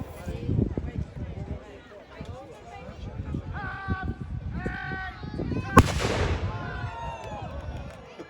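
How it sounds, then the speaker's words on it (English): A medieval hand cannon fires once outdoors at a castle event, a sharp loud blast about two-thirds of the way through. Crowd chatter and voices surround it before and after. "Sylvester is a hand cannon"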